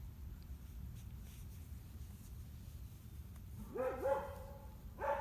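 A dog barks a few times near the end, short sharp yaps over a steady low outdoor hum, after several seconds of quiet background, with no other sound.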